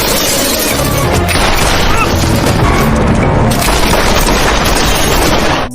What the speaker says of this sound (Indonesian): adegan tembak-tembakan pun terjadi